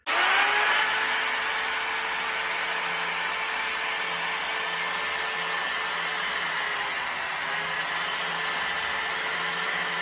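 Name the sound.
power sander rounding edges of faux wood beam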